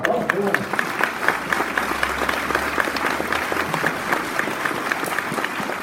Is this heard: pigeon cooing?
no